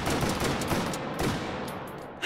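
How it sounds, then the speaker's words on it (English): Shotgun blasts in the VR shooting game Hot Dogs, Horseshoes & Hand Grenades, loud and close, with several reports in quick succession and a sharp final crack at the end; no one speaks. "it's a pretty cool shotgun"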